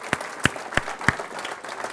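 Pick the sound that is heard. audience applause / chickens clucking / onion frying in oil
audience applause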